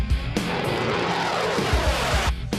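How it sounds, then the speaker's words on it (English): Fighter jet engine spooling up and lighting its afterburner, a loud steady roar with deep pulsing rumble and a couple of abrupt surges, with no talking over it. "There's a mill, here comes the afterburner."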